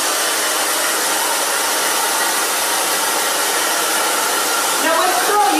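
A hair dryer blowing continuously at close range while hair is dried, a loud, even rushing whoosh with a small shift near the end.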